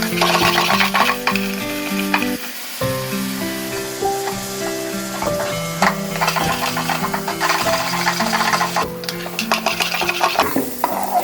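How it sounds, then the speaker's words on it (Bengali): Diced potatoes frying with salt in a pan for aloo morich bhaja, a steady loud sizzle broken by repeated scrapes and clatters of stirring throughout. "এবারে আমি এতে দেবো পরিমাণ মতো সল্ট, দিয়ে আলুটাকে আমি একটু ভাজা ভাজা করে নেব"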